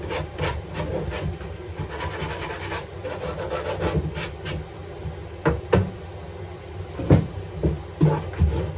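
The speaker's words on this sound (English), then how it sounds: "Bit of a sander, bit of a tidy." Steady rubbing and rasping of a sander on wood inside a van being fitted out, continuous and close for several seconds, ending with a few sharper knocks and scrapes.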